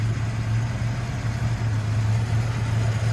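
A 1984–87 Turbo Buick engine idles at about 825 to 925 rpm, a steady low rumble with a constant hum and a slight waver, heard up close without voices.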